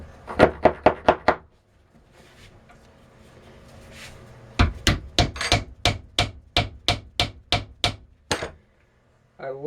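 Firework powder increments rammed into a shell casing for a 5-inch single-break shell, a sharp run of five rapid knocks, a pause, then a longer steady series of about fifteen loud close wooden thuds.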